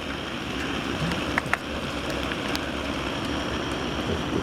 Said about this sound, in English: Nothing like being outside in the rain.